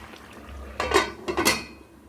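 A metal lid is set onto a cooking pot of fish curry, giving two short clanks of metal on metal at close range with quiet kitchen background and no talk.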